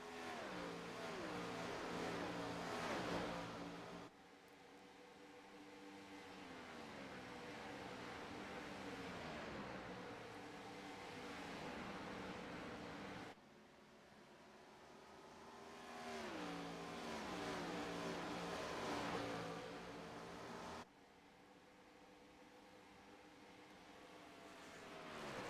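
Stock race cars racing at Homestead-Miami Speedway in the All American Cup Series finale, engines roaring as cars pass in waves, loud surges rising and falling with brief quieter gaps, no voices heard.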